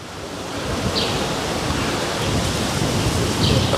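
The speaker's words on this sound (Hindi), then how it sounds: "हवा भी बड़ी तेज़ चल रही है यहाँ पे" Strong wind rushing outdoors under trees at Gendarmenmarkt in Berlin, a steady broadband roar with gusts swelling, close to the microphone and with no talk.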